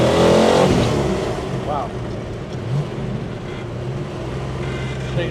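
A 1970 Dodge Challenger R/T with a 440 V8 and 4-speed pulls hard through second gear, its loud exhaust roaring up close and steady, while a person briefly exclaims over it.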